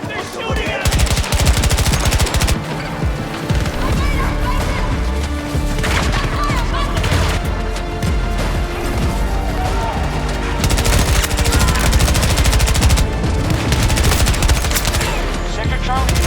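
Dense, continuous automatic gunfire rattles through a Battlefield battle, machine-gun bursts and overlapping shots sounding loud and close with splintering impacts, heavy and unbroken throughout.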